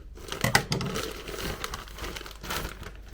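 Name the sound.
opening a parcel package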